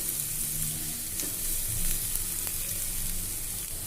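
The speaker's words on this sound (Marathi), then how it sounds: "मीठ हे छान परतून घ्यायचं आहे" Onions with a little salt sautéing in a pan for gavar bhaji, a faint, steady hiss of frying with only occasional soft stirring touches, close and quiet throughout.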